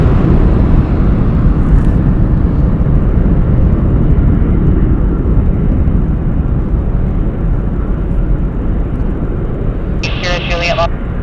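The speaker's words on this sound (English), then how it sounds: "Got our next Southwest taking off, and that one's heading to Ontario" A Southwest airliner takes off at Las Vegas Harry Reid International Airport, its broad engine roar steady and loud throughout, with a brief higher burst of chatter near the end.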